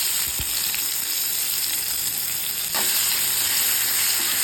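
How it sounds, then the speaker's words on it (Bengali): Chopped onions dropped into hot oil for chicken curry, a loud, dense, continuous hiss of frying that swells slightly partway through, close up with no talking. "এবার আমি কুচিয়ে রাখা পেঁয়াজগুলোকে ওই গরম তেলের মধ্যে দিয়ে দেবো।"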